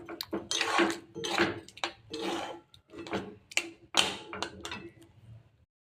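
A spoon scrapes and stirs through rice with sugar, salt and turmeric in a pot, close up, in about eight rhythmic rough strokes separated by short pauses.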